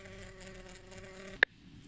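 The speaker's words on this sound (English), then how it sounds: "I have a bee issue." A bee buzzing indoors near a craft table where resin coasters are being made, a steady, faint, close drone that ends with a short sharp tap.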